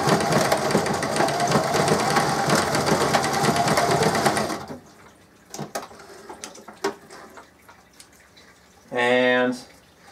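A sewing machine stitching a bungee holster buzzes loudly and continuously for several seconds, then stops. Scattered handling clicks and a voice follow, and a short final burst of stitching closes the clip.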